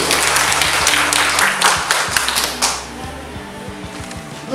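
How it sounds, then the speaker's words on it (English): Audience applause welcoming the chairperson at a class debate, a burst of clapping that thins out midway, with background noise continuing underneath. "A round of applause, please."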